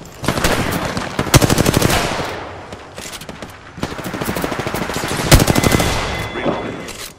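Rapid automatic gunfire in the Apex Legends shooter, loud sustained bursts of rattling shots in two long volleys with brief pauses, close and punchy, with occasional game voice lines.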